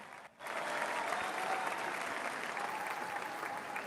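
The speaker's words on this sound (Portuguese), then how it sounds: "Você ouve os aplausos." Large crowd applauding at a political gathering, a sudden swell of dense clapping that holds steady and fairly distant for a few seconds.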